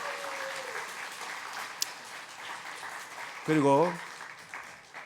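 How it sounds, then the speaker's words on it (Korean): A crowd at a university chapel service claps steadily for professors and staff as a sustained wash of applause, and a voice speaks briefly over it. "우리 교직원들 위해서 박수 한번 하겠습니다."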